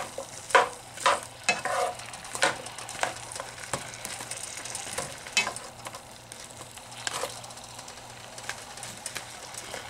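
Frozen pasta and vegetables cook in a pan while being stirred. Irregular scrapes and clatters of a utensil break over a soft, continuous sizzle, close by, with no talking.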